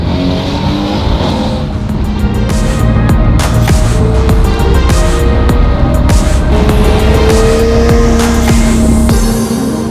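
A McLaren 720S sports car accelerates hard, its engine note climbing loud and close before several sharp gear changes, with the driver lifting off at each shift.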